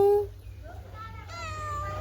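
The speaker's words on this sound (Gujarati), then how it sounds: "બિલ્લી બોલો મ્યાઉ" A domestic cat on a farm gives a short, close meow with a rising and falling tone, while a person speaks nearby.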